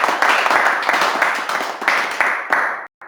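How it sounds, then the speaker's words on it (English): Applause with a hollow echo fills the room at the close of a Drupal meetup talk in London, steady dense clapping for nearly three seconds before cutting off abruptly. "I hope you can endure the echo with the applause there"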